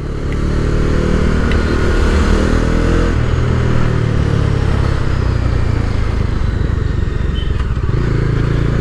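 A 2020 Bajaj Dominar 250 motorcycle being ridden on the road, its engine droning steadily and loudly up close throughout, with wind rush and a brief shift in engine note partway through.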